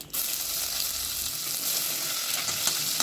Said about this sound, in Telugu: తర్వాత దీనిలో పోపు గింజల్ని, జీలకర్రని కూడా ఫ్రై చేసుకోవాలి